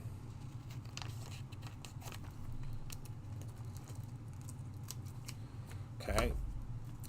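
Scissors snipping out thin adhesive transfer pieces for card making, a run of small close cuts and paper rustles with a louder handling sound near the end, under a faint background hum.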